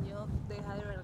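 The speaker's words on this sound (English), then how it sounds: "It's hella windy." Gusty wind buffets the microphone outdoors in Medellín, Colombia, a steady low rumble under a man's nearby speech.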